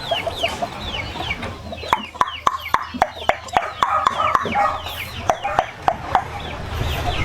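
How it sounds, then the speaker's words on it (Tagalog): Chickens with their chicks on a farm, steady soft clucking and chirping peeps throughout, with a run of sharp rhythmic pecking or tapping clicks in the middle, close by. "Yan mga sisiw natin yung mga kabungot oh."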